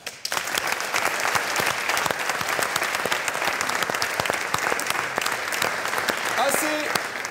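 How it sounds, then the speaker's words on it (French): An audience at the final of a French national debating championship breaks into sustained applause, steady dense clapping filling the hall from start to finish. "Et je vous demanderai, s'il vous plaît, de les applaudir."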